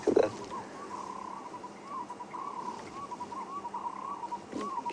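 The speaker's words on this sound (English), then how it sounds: "That's a black collared barbet." A black-collared barbet calls during an evening safari drive, with a rhythmic string of repeated mellow notes at moderate distance after a short bump at the start, over quiet outdoor ambience.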